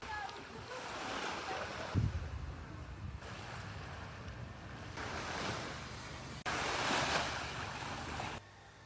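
Waves wash onto a beach in repeated surges, a broad hissing roar swelling and fading with light wind noise.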